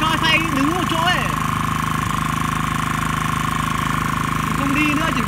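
A Shibaura KF552 Japanese walk-behind rotary tiller churns soil while standing in one spot, its engine droning steadily and loudly with a rhythmic mechanical beat as people talk over it.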